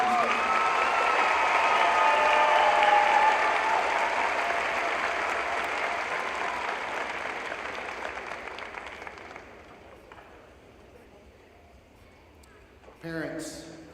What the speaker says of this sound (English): one more round of applause for our combined choirs and orchestra.